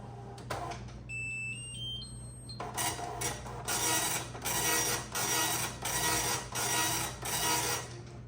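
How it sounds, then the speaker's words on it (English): A Tandy DMP-133 dot matrix printer running its self-test chatters noisily in rhythmic bursts as its head sweeps back and forth, preceded by a few brief electronic beeps. "But does the printer still work? Well, self-test time."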